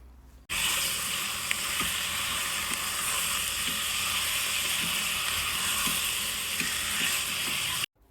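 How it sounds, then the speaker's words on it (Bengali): Mutton sautéed dry in a pan with no water added gives a steady, close hiss of frying, broken by occasional soft knocks of stirring. "এখন মাটনটা দিয়ে দিয়েছি আমি এরপর মাটনটাকে এর মধ্যে ভালো করে কষাবো"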